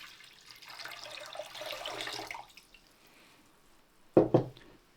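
Cold water poured into a salt brining solution for pickled onions, a steady splashing pour for a couple of seconds that tails off, followed later by two short louder knocks.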